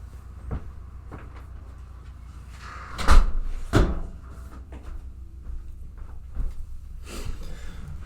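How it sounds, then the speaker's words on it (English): Doors being closed indoors produce a couple of solid thumps and knocks in the middle, surrounded by softer bumps and light rattling in a quiet room. "I'm gonna go close the doors."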